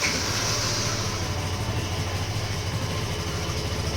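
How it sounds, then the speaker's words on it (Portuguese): A Yamaha FZ-15 motorcycle engine idles with a steady, low rumble, continuous with an even, slightly rough pulse, fairly close and constant throughout, with no voices. "Eu vou ligar aqui a moto para que vocês escutam um pouquinho do ronco dela"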